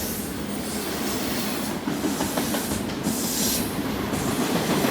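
A long BNSF double-stack intermodal freight train of 155 cars rolls past close by at Carkeek Park at sunset, a continuous loud rumble with rhythmic wheel clatter and occasional faint squeal.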